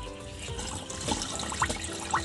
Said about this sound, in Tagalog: Lagyan muna natin ng tubig to kasi mahihibasan ng tubig.